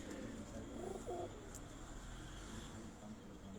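A Nag breed pigeon coos softly in a few low, rounded notes early on, set against a steady rooftop hum with faint background voices.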